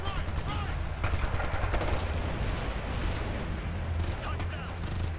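Rapid, dense gunfire and booming shots from the video game Ghost Recon Future Soldier, sniper fire among continuous battle noise with a steady low rumble, loud and sustained throughout.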